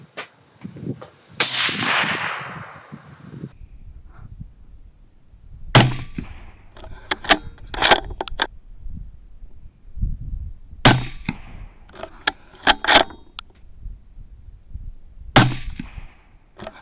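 Tikka T3X rifle in 6.5 Creedmoor fired outdoors, several sharp, loud cracks spaced a few seconds apart with echoing tails, plus a rushing noise at the start and quieter handling clicks between shots.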